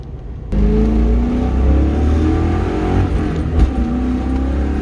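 A car with Nitto NT555 G2 Ultra tires on Bullitt wheels revs its engine loudly and steadily, a rising and falling drone carrying a whirring power steering whine, heard up close with no talking.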